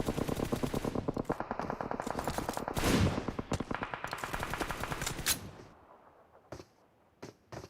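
Automatic gunfire from the mobile battle-royale game PUBG Mobile during a PMGC 2021 esports match: dense rapid bursts rattle continuously for several seconds, then thin out into a few isolated sharp shots.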